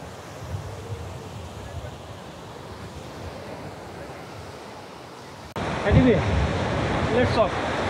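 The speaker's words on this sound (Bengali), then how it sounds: "এই যে সমুদ্র সৈকত" Sea waves on a beach in the Sundarbans, a broad continuous wash of surf with wind buffeting the microphone, growing louder and rougher in the final seconds.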